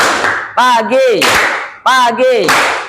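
A group claps in quick rhythmic bursts while voices chant along in unison, the pattern repeating twice, close and loud.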